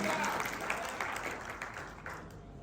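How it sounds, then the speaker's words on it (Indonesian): A church congregation at a Christmas service applauds, dense steady clapping throughout that fades slightly toward the end, with some murmuring voices mixed in. "Berikan tepuk tangan."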